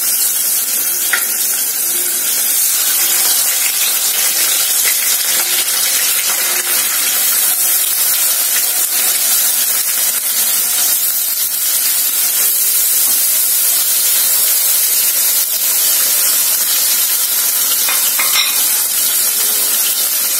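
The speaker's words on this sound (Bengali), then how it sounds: "আমি এবার সর্ষের তেল দিচ্ছি, দিয়ে মাছটা ভেজে নেবো।" Kajali fish frying in mustard oil in a pan for a Bengali fish curry, with a loud, continuous hissing sizzle that holds steady throughout and is joined by occasional faint clicks, with no talking.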